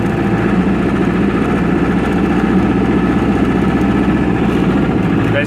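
A 1995 Libby MEP-803 10 kW diesel generator runs at a steady idle, its loud, even engine drone and low mechanical hum holding constant throughout with no talking.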